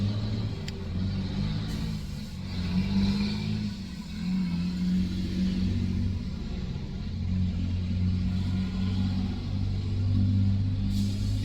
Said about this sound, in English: These motherfucking trucks, they just don't fucking stop.